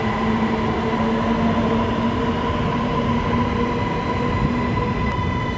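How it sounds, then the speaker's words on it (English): A Bangkok Skytrain pulls into a station with a loud, steady rumble and sustained electric whine that holds level throughout, close by, with no voices over it. "look, train. Yeah, here it is. It's coming."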